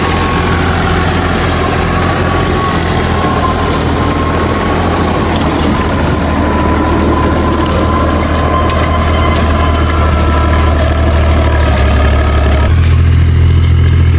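A tractor-mounted rotavator tilling a wheat field in Punjab, heard as a loud, steady, low engine drone that shifts pitch near the end.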